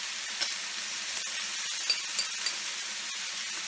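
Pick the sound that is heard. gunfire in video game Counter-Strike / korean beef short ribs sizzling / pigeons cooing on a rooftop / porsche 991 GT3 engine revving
korean beef short ribs sizzling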